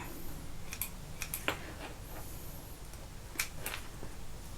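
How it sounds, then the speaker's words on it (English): Threads are snipped on a freshly top-stitched fabric sanitiser case, giving a few quiet, sharp scissor clicks scattered over a soft background, with no talk. "So let me just trim my threads."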